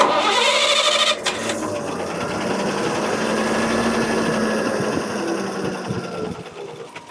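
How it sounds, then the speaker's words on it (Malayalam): A CNG-converted diesel truck engine idles steadily and smoothly, with a continuous mechanical hum and a brief higher whine at the start, no voices. "നമുക്ക് ഇതിന്റെ ഒരു എഞ്ചിന്റെ സൗണ്ട് ഒന്ന് കേൾക്കാം"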